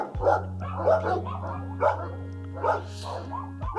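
Dogs bark in the kennel runs of an animal shelter: several loud, close barks come in a steady repeating rhythm over a constant low hum, with no talking.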